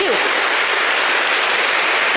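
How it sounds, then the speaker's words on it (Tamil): An audience applauding for themselves, dense loud clapping from many hands that fills the whole moment. "உனக்காக நீ ஒரு தடவை கை தட்டி பார்க்கலாம்"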